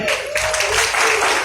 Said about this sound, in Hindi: चलो मैम के लिए जोरदार तालियां।